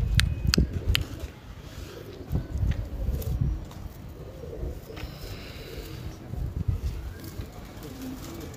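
Prized champion pigeons in Multan coo softly in low repeated bursts, close by, with occasional sharp clicks and rustles and a voice talking over them.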